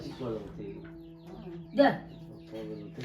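Chickens in a Konkan village cluck close by while drinking water, with one louder squawk partway through, while a voice talks in the background.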